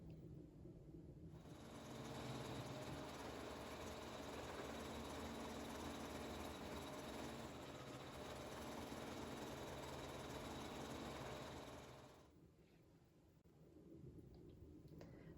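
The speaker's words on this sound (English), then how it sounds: "we'll go back to the machine and we will do the satin stitch all around the napkin" An embroidery machine stitches a satin border around a napkin, a steady mechanical whir that starts about a second in, runs evenly, and stops near the twelve-second mark, leaving a quiet room.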